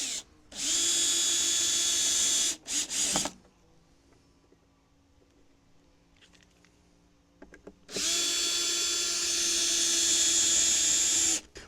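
Power drill driving screws into a wooden Vegtrug planter: two loud sustained whirring bursts, the first about two seconds with a short stuttering tail, then a quiet pause with light handling noises, then a longer run close by.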